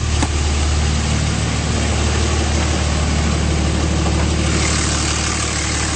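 A 2007 Dodge Ram 2500 5.9L diesel truck engine idles on and on, a continuous low rumble with an even, unchanging drone and no voices.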